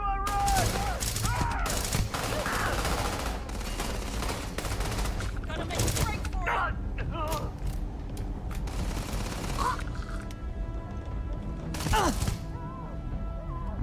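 Rapid gunfire bursts in the Starfield video game clatter almost continuously, loud and dense, with sharp impacts and occasional high whines layered over the barrage, and a voice speaks briefly in the mix.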